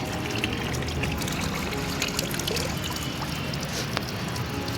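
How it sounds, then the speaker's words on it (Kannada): Water runs steadily from a tap while washing clothes by hand, a continuous broadband splashing rush with no pauses, fairly close. "ಡೈಲಿ ಹ್ಯಾಂಡ್ ವಾಶ್ ಮಾಡ್ತೀನಲ್ವ ಹಂಗಾಗ್ಬಿಟ್ಟು ನೀರು ಆನ್ ಮಾಡಿದೆ"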